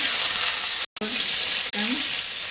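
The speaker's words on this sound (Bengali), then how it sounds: "কড়াই একটু তেল বেশি লাগে। শুকনো লঙ্কা দিলাম, পেঁয়াজ কুচি রেখেছিলাম দিয়ে দিলাম" Dried chillies and chopped onion fry in plenty of oil in a wok, giving a loud continuous close sizzle broken by a couple of brief dropouts and light stirring scrapes, with no talking.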